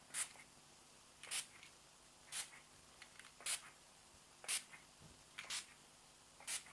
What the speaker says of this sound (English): So the misting spray wasn't too strong.